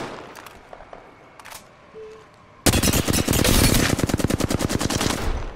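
Rapid automatic gunfire from the video game Apex Legends erupts loudly after a quieter stretch of faint scattered shots, continuing as a dense, fast burst to the end.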